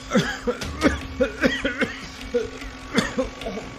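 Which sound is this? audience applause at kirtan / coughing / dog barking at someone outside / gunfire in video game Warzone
coughing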